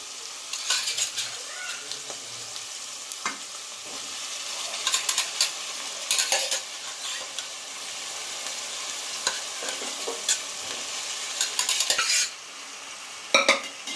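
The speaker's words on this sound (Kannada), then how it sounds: "ಚೆನ್ನಾಗಿ ಈ ರೀತಿ ಮಿಕ್ಸ್ ಮಾಡ್ಕೊಂಬಿಡಿ" Boiled chickpeas stirred and mixed in a pan, a spoon scraping and clinking against the metal in repeated strokes over a light sizzle, close and fairly loud with no talking.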